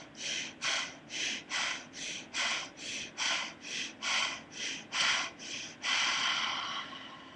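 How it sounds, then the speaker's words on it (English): Rapid, forceful chest breathing in and out during a breathing exercise, about a dozen sharp, loud breaths in a steady rhythm, ending in a longer drawn-out exhale, close to the microphone. "circle breathing for 5 minutes, where it's just breathing from your chest in and out, and I'll show you right now"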